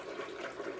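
Aquarium power heads churn the water in a fish tank, a faint, steady bubbling swish with no break over a brief moment.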